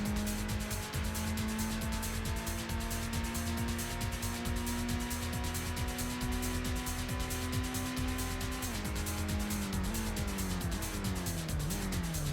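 Game race car engine from Gran Turismo held at a steady high-revving drone through a drag race, then shifting down with dipping pitch near the end, loud and continuous with no talk.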